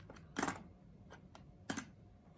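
Cassette tape, an album, pushed into a Pioneer SC-5330 tape deck, giving two quiet, separate plastic clicks and clacks about a second apart over faint background hiss.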